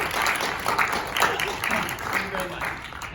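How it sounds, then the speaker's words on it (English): Audience applause at a TED-style talk, a dense steady burst of clapping from a crowd filling the whole moment, with a voice faintly over it. "can we get a wonderful round of applause?"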